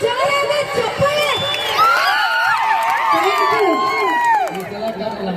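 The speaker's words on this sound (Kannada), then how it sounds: "ಜೆಸಿಬಿಗೆ ಜೋರಾದ ಚಪ್ಪಾಳೆ." Crowd at a stage show cheers and whoops loudly with some clapping, voices rising and falling close by in a lively, continuous roar.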